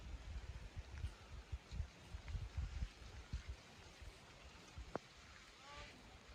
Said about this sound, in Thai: ฝนอยู่ฝนตกฝนตกโอ้ฝนฝอยเนาะ